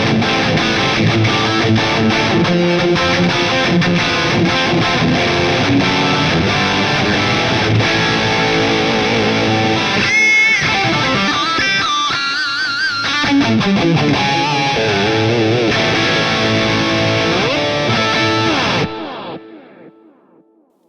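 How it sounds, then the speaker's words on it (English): Heavily distorted electric guitar through a Splawn Super Sport amp head, playing loud chugging chords and riffs, ringing out and fading at the end. "That is actually the sound of my actual Splawn Super Sport head"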